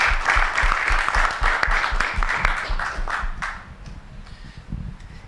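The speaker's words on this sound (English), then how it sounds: "So I think that deserves a round of applause to us all" Audience applause closing a conference session on private sector engagement in climate adaptation, a dense burst of clapping that stays fairly loud then thins and fades toward the end.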